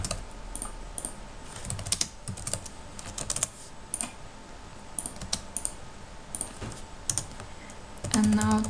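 Rapid typing on a computer keyboard at close range: steady, uneven key clicks run on for several seconds, with a few heavier keystrokes near the end.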